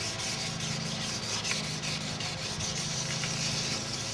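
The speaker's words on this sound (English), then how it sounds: "my next step is to go up to 1200 grit and wet sand it some more" Wet sanding of car paint on a BMW 2002 with 1200-grit sandpaper, a steady close hiss of rapid, even rubbing strokes continuing without pause.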